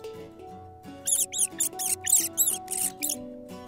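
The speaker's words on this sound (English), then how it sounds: "You're right, it's a mouse." A rapid series of high, thin squeaks, about a dozen in quick rhythm, with a soft tonal background beneath them.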